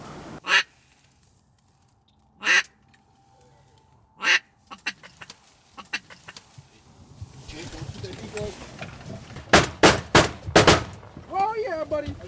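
Redhead ducks give several sharp, loud calls in bursts on open water during a duck hunt, with scattered gunshot-like bangs earlier and a denser cluster of calls near the end over a low background hum.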